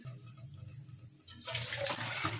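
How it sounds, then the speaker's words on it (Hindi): Boiled cauliflower is lifted out of a pot of water in a home kitchen, a soft splash and trickling, dripping water that swells partway through, fairly faint. "मैं पानी के अंदर से गोभी निकाल लेती हूँ"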